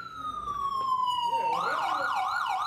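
An ambulance siren sounds loudly on a street, first as a steady falling tone and then switching to a fast rising-and-falling wail that carries on to the end.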